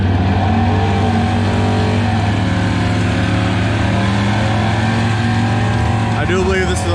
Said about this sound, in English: Rob's taking his one test pass.